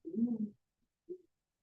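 Bird cooing like a pigeon or dove, sounded for a guessing game: a half-second rolling coo followed after a pause by one shorter coo, close and clear against silence.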